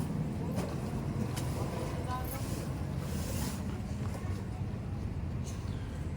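A truck drives home from a grocery store in the Philippines, its steady road rumble and wind noise filling the cabin continuously throughout.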